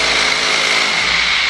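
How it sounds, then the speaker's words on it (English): A power drill bores into a wall nearby, a loud, steady high-pitched whine with a constant tone and no pauses, heard alone with no voices. "someone's drilling a fucking wall!"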